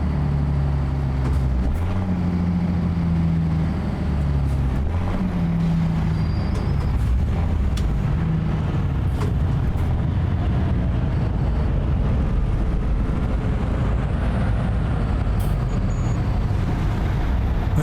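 The engine of a truck fitted with a ZeeMod Caterpillar 3406B in American Truck Simulator roars loud and steady throughout, with a deep low rumble that climbs in pitch early on and holds a continuous heavy drone.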